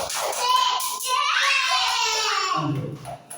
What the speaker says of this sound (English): Everybody clap for them.